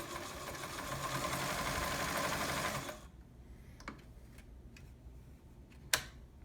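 An Omega Ultra 2000 sewing machine runs a steady, fast stitching whir for about three seconds, then stops, leaving a few faint clicks and one sharp tap.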